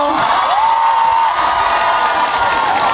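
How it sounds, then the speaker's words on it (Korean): Audience applause and cheering at a health fair in Ulsan, a dense, loud, continuous clapping with whoops and shouts from a large crowd, close and sustained throughout. "큰 박수 한 번만 주시겠어요?"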